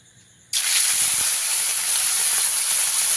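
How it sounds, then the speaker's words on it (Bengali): Raw prawns drop into hot mustard oil in a pan, and a sudden loud, steady hiss of frying bursts in and holds without a break. There is silence before the sizzle starts. "তেলটা ভালোভাবে গরম হয়ে গেলে এখানে চিংড়ি মাছগুলো দিয়ে দিচ্ছি"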